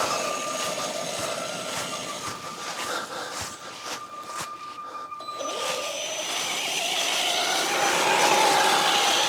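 Electric motor whine of a Traxxas Sledge RC truck driving, a continuous buzzing drone that rises and falls in pitch as it accelerates, with rougher rattling bursts midway as it crosses terrain.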